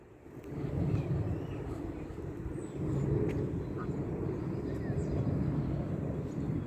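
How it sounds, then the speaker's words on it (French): Aircraft near Orly airport rumble as a steady low broadband roar, swelling around the first second and again near three seconds, with wind-like noise throughout and no speech. "qu'on entend les avions"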